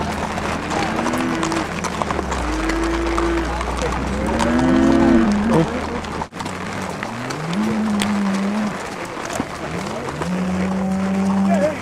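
During a cattle drive, cows moo repeatedly, some low and drawn-out, mixed with hoof clatter and movement in the open. People talk throughout, loud and close.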